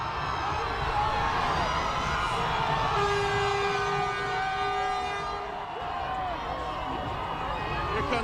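Massive crowd at the Philadelphia Eagles Super Bowl championship parade roars and cheers in a dense continuous wash, with horn-like tones and a commentator talking over it.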